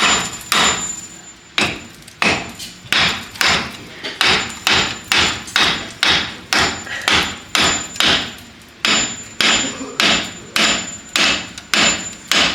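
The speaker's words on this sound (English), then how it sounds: "We go grab the hammer." Sharp metal hammer blows strike the brake caliper of a 1979 Pontiac Bonneville, loud and close, in quick rhythmic bursts of two to four hits separated by brief pauses, with no talking.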